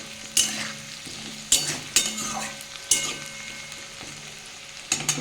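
Potatoes frying in oil in a pan, a soft continuous sizzle with several sharp scraping knocks of a spatula turning them at irregular intervals, close by and without speech.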